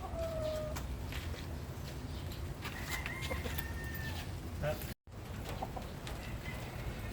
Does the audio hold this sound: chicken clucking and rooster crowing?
yes